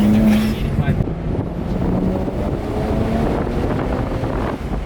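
A nitrous BMW 335i engine roars steadily at full throttle, with whooshing intake noise and wind buffeting the microphone throughout.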